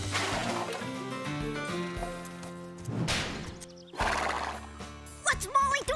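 A cartoon horse whinnies in several loud, shrill calls, with hooves clip-clopping between them and characters talking in places.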